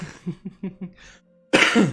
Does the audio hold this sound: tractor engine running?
no